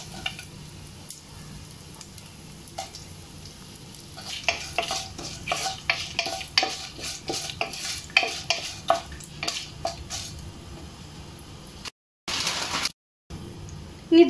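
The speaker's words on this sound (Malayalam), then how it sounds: "ഇനി ഇതിലേക്ക് നമുക്ക് തേങ്ങാക്കൊത്ത് ആഡ് ചെയ്ത് കൊടുക്കാം." Coconut pieces stirred into a sizzling pan for chicken pallippalayam, a steady frying hiss broken by repeated scraping strokes of a spoon against the pan, close and clear with no talking, ending in brief cut-outs and a couple of clinks.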